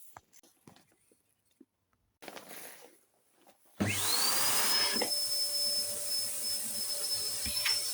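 A Sebo BS360 upright vacuum cleaner switches on after a few quiet handling knocks, then runs loud and steady with a high whine through to the end.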